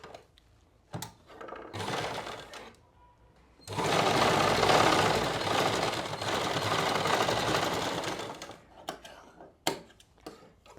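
A sewing machine stitches a pocket onto palazzo pants in two close whirring bursts, a short run followed by a longer steady one, with clicks and handling sounds between them.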